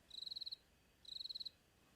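Crickets chirping at night: two brief, evenly pulsed trills about half a second long, a second apart, faint and clear over quiet background hiss.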